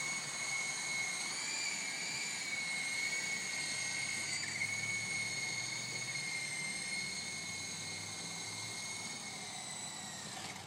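A toy helicopter flying nearby, a steady high-pitched electric motor whine with a layered buzzing tone that holds constant and shifts slightly as it eases toward landing.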